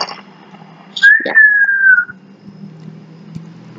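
A person whistles one clear sustained note lasting about a second, loud and close, followed by quieter background noise.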